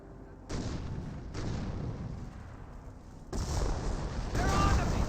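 Artillery barrage rolling in during a Company of Heroes match, a broad sustained rumble of bursts that swells louder about midway and again near the end, with game sound throughout.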